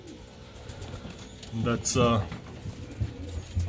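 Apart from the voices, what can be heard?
racing pigeons cooing after returning from a toss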